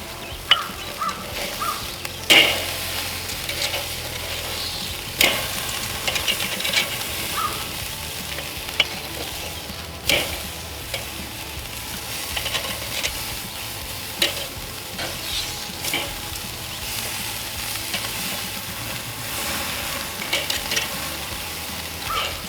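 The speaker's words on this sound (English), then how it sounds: "We're just gonna sear these on each side for maybe 20-30 seconds, just to get a little bit of that char flavor into the steaks." Wagyu steaks searing over hot charcoal, a steady close sizzle and crackle running throughout with a few sharp pops and knocks, no voices.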